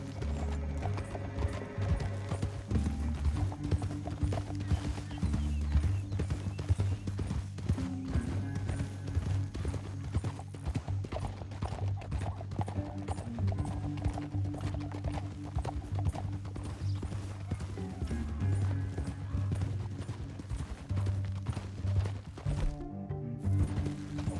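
Horse hooves gallop in a fast, continuous clip-clop over a low mechanical drone in Red Dead Redemption 2, with a brief whinny, the whole scene loud and sustained.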